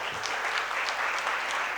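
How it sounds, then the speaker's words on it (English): Applause from the audience at a physiotherapy conference inauguration, steady dense clapping filling the whole short stretch without a break. "Please put a round of applause for you all people."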